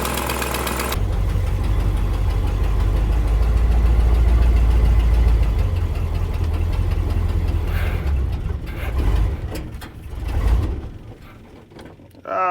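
An International 1110 pickup truck engine idles while warming up, a loud, steady rumbling run with mechanical knocking that falters and dies away toward the end.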